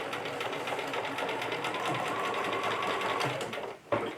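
A sewing machine stitches a robe made from McCall's pattern M2476, running in one close, steady whirring burst with a rapid rhythmic needle patter, then briefly stopping near the end.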